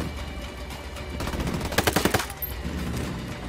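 Rapid automatic gunfire in Tom Clancy's Wildlands, a tight burst of about six close, loud shots in the middle of a steady combat din.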